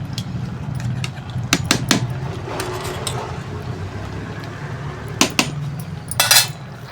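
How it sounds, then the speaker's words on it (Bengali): A metal lid set onto a cooking pot in a home kitchen, giving a few sharp clanks and clatters with a short metallic rattle near the end, close and moderately loud over steady background hum. "এবার একটা ঢাকনা দিয়ে ঢাকা দিয়ে দেবো।"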